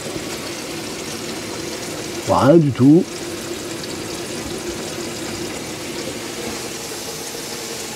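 Water runs from a mixer tap in a camper van as a steady, soft hiss, while someone briefly speaks over it midway.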